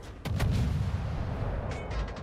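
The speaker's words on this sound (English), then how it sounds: "And North Batter's taking a lot of fire" Heavy artillery fire pounds a battery in the video game Singularity Invader, with a sharp blast followed by rolling booms and rumbling impacts and a few quicker cracks near the end, loud and close.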